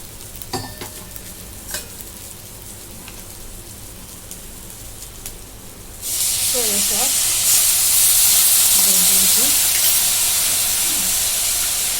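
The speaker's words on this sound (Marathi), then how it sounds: "कांद्याची पात परतून घेऊ त्याच्यात थोडी मिरची पावडर" Spring onion greens hit a hot pan and set off a loud, steady sizzle and hiss that follows quieter stirring and clinking, with brief voiced sounds partway through.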